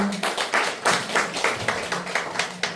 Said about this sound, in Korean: 뜨거운 박수로 맞아주십시오.